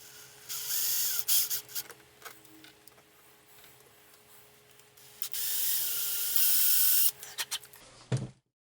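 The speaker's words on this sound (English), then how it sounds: "I'm going to drill these out real quick" A small power drill bores out plastic proton pack parts in two loud whirring bursts separated by quieter handling clicks and taps, ending with a brief clunk.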